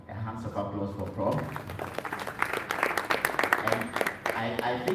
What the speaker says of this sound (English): A hand of applause for Prof.